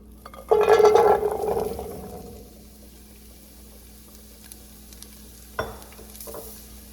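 Asparagus drops into hot olive oil with a sudden loud sizzling burst that fades into a quieter, steady hiss, with a single clank of cookware near the end.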